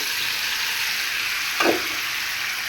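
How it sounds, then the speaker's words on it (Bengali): Chicken pieces dropped into hot oil in a home kitchen give a steady, fairly loud sizzle with a brief louder burst of spattering partway through; no one speaks. "তেল গরম হয়ে গেছে আমি মাংসগুলো দিয়ে দিতেছি"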